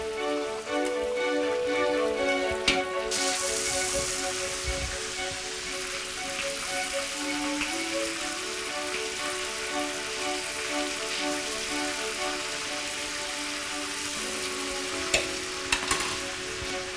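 Azerbaijani kufta meatballs frying in hot oil in a kazan, a loud continuous crackling sizzle with a rain-like patter that holds steady, a few small clatters near the end, no talking.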